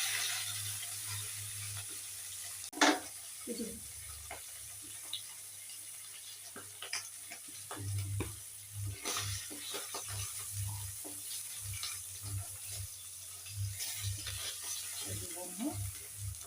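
Fish frying in a pan sizzles at a moderate, steady level close by, broken by occasional clinks and scraping as pieces are moved and lifted out.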